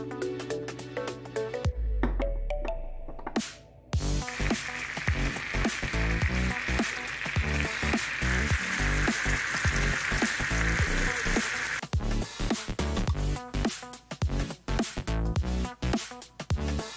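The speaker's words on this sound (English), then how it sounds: "I'm just gonna put in this pan to just simmer it and make it more" Honey garlic sauce sizzling and simmering in a hot pan, a steady crackling fry with some clinks and stirring, loud and close, with no talking.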